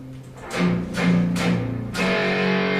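Electric guitar chords through a MOOER preamp modelling an EL84 tube amp, strummed four times in a slow rhythm, each ringing out with a slightly gritty, warm overdriven tone, the last one left to sustain.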